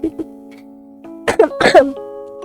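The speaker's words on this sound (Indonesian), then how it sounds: "Apa sih batuk mulu?" A few short coughs up close while playing the game Garten of Banban, a couple of quick ones first, then a harsher burst of coughing near the end.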